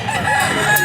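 A rooster at a pet market crows loudly and close, one sustained strained call over a steady noisy background.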